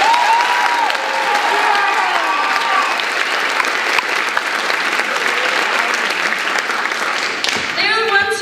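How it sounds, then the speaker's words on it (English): Sustained applause fills a school auditorium at a performing arts awards show as teachers are honoured, loud and steady clapping with a few cheers, and a voice begins speaking near the end. "Can we give him a round of applause"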